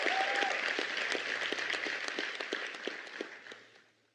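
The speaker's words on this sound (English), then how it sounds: "Can we give that a round of applause," Audience applause at a graduation ceremony in a convention centre: dense, even clapping from a large crowd, full at first and gradually thinning out and fading over a few seconds.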